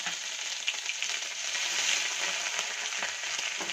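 Green chili and grated ginger sizzling in hot oil, a dense, steady close-up crackle that holds evenly without a break, with no voices.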